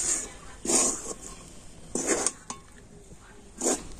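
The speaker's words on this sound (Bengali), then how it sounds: "কন্টিনিউ নাড়াচাড়া করে মিশ্রণটা এইভাবে আমি রেডি করে নিয়েছি" A spoon scrapes and clinks against a pan while stirring a thick rice flour and flour dough, in three or four short, separate strokes with quiet pauses between them, all close by.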